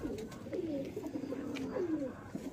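A golden pigeon coos faintly in repeated soft, swooping calls against a quiet, hissy background.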